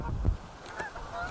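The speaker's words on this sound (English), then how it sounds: "There's a group of geese flying, it's called a skein." A few honks from a skein of geese flying overhead at a nature reserve, fairly faint and intermittent, over low rumbling background noise.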